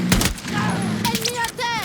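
Rapid gunfire bursts laid down as covering fire in the video game Battlefield 6, sharp close cracks early on, then continuing amid in-game noise and radio-style voice chatter.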